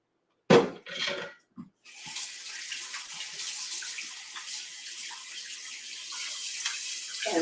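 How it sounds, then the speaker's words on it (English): After a few clinks from a used bowl, warm water pours steadily from a tap into it, a close, continuous splashing rush that fills the rest of the moment, with no talking. "immediately put some warm water in here so that you don't have to struggle to clean it later"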